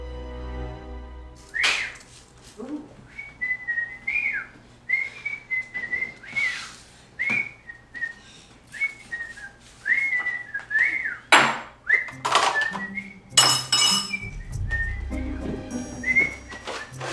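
A person whistles a bouncy tune while doing chores at home, phrases rising and falling with short pauses, mixed with clinks and clatter of household items and a brief low rumble near the end.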